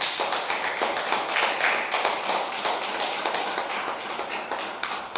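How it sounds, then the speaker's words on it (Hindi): An audience clapping on request at a gathering, a close, uneven round of individual claps with distinct repeated strikes, fairly quiet and heard without talk. "जिसके माध्यम से यहाँ पहुँचे हैं उनके लिए ज़ोरदार तालियां बजा दीजिए"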